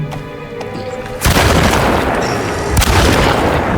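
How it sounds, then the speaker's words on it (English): A single heavy shotgun blast from the Alone in the Dark Remake video game booms loudly and suddenly after a quieter lead-in, then a long rumbling tail follows with a second sharp crack near the end. "We finally get to use the shotgun."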